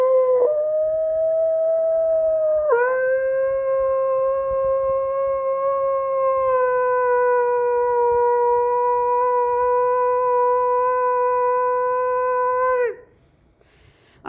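A person imitates a wolf's summoning howl, holding a long, steady pitched note after a brief rise near the start. The loud, sustained voice stays level for about ten seconds and then stops abruptly.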